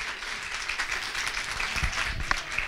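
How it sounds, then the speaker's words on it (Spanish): A church congregation applauds during a Sunday sermon, a steady wash of many hands clapping at moderate distance, sustained without break. "Da un fuerte aplauso a Dios"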